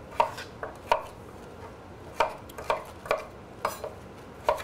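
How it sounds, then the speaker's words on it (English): A knife chops butternut squash into one-inch cubes on a cutting board, giving about ten crisp, close knocks in an uneven rhythm, heard alone without talk. "Now we cut this in a 1 inch by 1 inch cube, so it cooks evenly in the oven."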